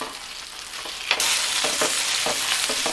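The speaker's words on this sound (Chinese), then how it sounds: "煎50秒后翻个面" A tomahawk steak rubbed with oil and garlic fries in a pan, a bright continuous sizzle that jumps louder partway through, with crackling spatters close by.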